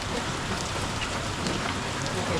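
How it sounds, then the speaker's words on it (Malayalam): Steady rain pours down at a hill top in Matheran, a dense, even hiss of drops striking surfaces that holds constant and fairly loud throughout, with no voices. "എക്സാക്ട്ലി ഞങ്ങൾ മഴയത്തായിരിക്കുന്നത്."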